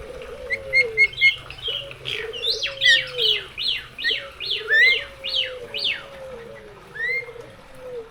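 Spotted doves cooing low and steady in a small aviary, overlaid by bright, busy chirps and whistled phrases from songbirds, repeating throughout with no talking.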